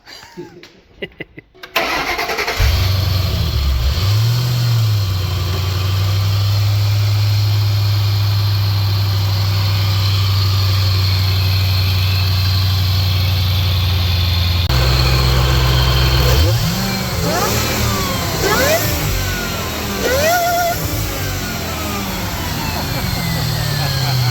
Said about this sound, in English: Just a small engine.